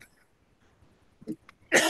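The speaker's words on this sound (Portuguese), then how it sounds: "tossi na cara de vocês" A quiet stretch with faint throat noises, then a sudden harsh cough bursts out near the end, close and loud.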